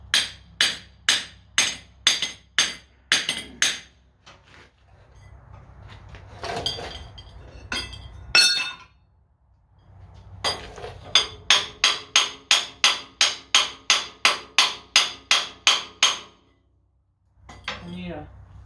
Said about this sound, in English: Should just take the tip of the hammer and pop it right on out.